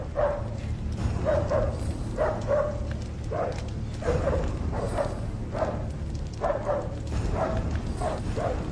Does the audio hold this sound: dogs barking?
yes